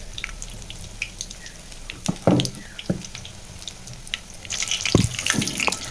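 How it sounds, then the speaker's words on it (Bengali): Spicy pitha being fried in hot oil, with a bubbling, watery sizzle and a few sharper splashes and scrapes as the pieces are turned, growing busier toward the end. "তেলের ভিতরে আমি এটা ভালো করে এপিট ওপিট করে"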